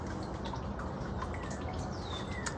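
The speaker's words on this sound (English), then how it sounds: "there's a fountain going over here, so the trickling water hopefully doesn't make you have to pee" A garden fountain trickles steadily outdoors, a continuous soft wash of falling water with faint bird chirps in the background and no talk.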